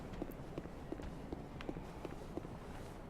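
Heavy footsteps stomping about in the video game Dark Souls 3, a regular series of soft thuds spaced roughly every third of a second over a low rumbling game ambience, fairly faint and steady.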